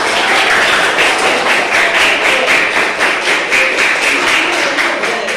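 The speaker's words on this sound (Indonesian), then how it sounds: "Tepuk tangan" Students in a classroom clap their hands in a loud, steady, rhythmic burst that runs the whole time, with no talking over it.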